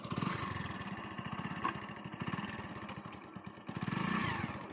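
Motorcycle engine held at a steady rev with fast chugging pulses, loud and close, swelling and easing through the throttle with a brief clatter midway.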